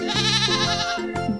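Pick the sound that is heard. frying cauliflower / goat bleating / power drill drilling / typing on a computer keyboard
goat bleating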